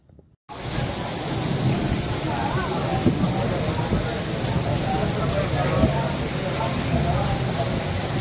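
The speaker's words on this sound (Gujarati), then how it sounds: "ધોધમાર વરસાદ" Heavy unseasonal downpour in Valsad district during a storm, a loud, dense, continuous roar of rain after a brief quiet opening, with low rumbling underneath.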